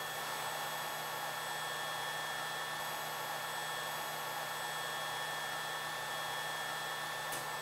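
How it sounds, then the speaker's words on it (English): Allen-Bradley servo motor running on a Kinetix 6000 and 5500 test stand, a steady high-pitched electrical whine with constant tones and broadband hiss, unchanging throughout with no talk. "So we use this to test the servo motors, the Allen-Bradley servo motors, and the control Logix, the Kinetic 6000, and the 5500."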